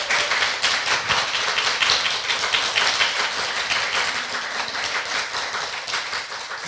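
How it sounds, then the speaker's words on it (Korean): A studio audience at a Korean political talk show applauds steadily and densely throughout, as an even, loud wash of clapping with no speech over it. "그러니까 박수."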